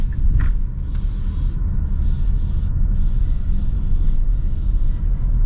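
2024 Hyundai Tucson Hybrid N-Line cruising on the road, steady low cabin rumble of tyres and drivetrain with faint higher whooshes, even and continuous from inside.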